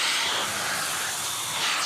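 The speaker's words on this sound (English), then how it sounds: "that swooshing sound of the steam iron that you hear" Steady swooshing hiss of steam from a Rowenta steam generator iron, broad and continuous for under two seconds, fairly loud and close, with no talking.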